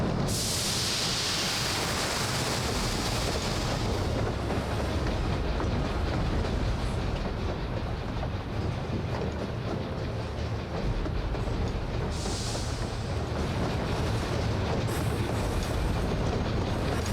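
Train rolling steadily along rails in Final Fantasy XIV, a continuous rumbling clatter with rhythmic wheel clicks, loud and unbroken for the whole stretch, with no voices.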